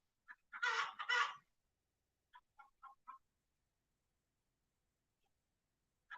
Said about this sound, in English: I swear that bird is either my rooster, which I doubt, or she's egg bound